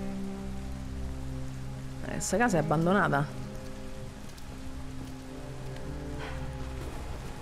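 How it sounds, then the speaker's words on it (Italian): Steady rain pours across a rainy scene in the video game Detroit: Become Human, a constant wash of falling water with a brief spoken line rising over it midway. "Non smette mai di piovere"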